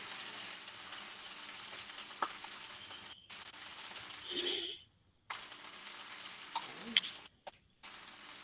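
Noodles searing lightly in a pan on a stovetop burner, a steady broad sizzle that runs for several seconds, drops out briefly twice, then resumes with small clinks.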